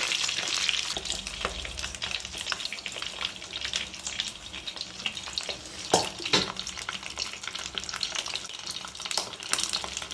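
A spice paste poured into a hot pan sizzles steadily with broad hiss, scraping stirs and a few sharper crackles and clanks, close and fairly loud with no talk.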